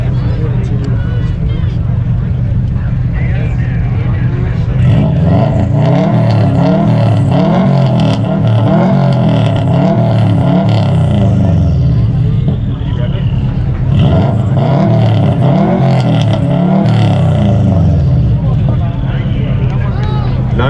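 A 2004 Subaru WRX at a car meet revs hard and loud up close in two long sustained pulls, its engine roaring over a steady idle, with people talking nearby.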